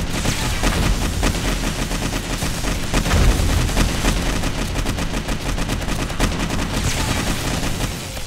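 Rapid gunfire and laser weapon shots in the video game 7 Days to Die (Darkness Falls mod) as zombies are fought, dense repeated bursts with booming impacts throughout.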